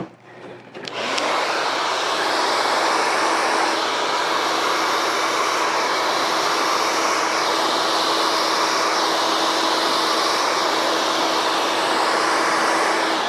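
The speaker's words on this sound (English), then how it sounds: "that's how I'm gonna be blow drying it as well" A hair dryer starts up and runs steadily, blowing a man's hair through a vent brush in a barbershop, a loud, constant whooshing hum with a steady whine, alone and close.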